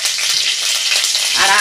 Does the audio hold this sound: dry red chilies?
yes